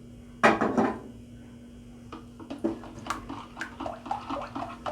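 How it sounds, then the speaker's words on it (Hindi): A spoon stirs salt into yogurt in a bowl, giving a sharp clink at first and then soft scraping taps against the side at close range, with no voices. "नमक को मिक्स कर लेंगे।"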